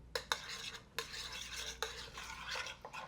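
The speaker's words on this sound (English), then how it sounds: "Give that a quick stir." A spoon stirs creamy chicken sauce with Parmesan and butter in a pan, giving close scraping swishes and a few sharp clinks against the metal over a faint low sizzle.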